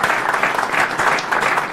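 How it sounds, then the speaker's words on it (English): A short, loud burst of dense audience applause at the close of a talk with an Olympic photojournalist, clapping steady and close throughout the brief moment. "how about a round of applause for Dan Powers?"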